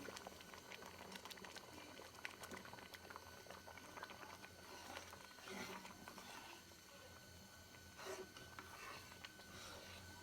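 Kochu pata (taro leaf) dal, seasoned with garlic, salt and a little turmeric, simmers in a pot with a soft, continuous bubbling and popping that stays faint throughout.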